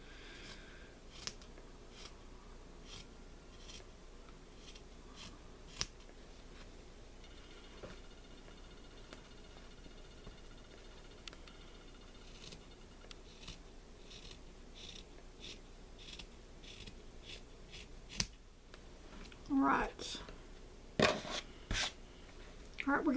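Quiet, scattered snips of scissors through fabric while making coasters, with a quick cluster of louder cuts near the end; a voice murmurs faintly in places.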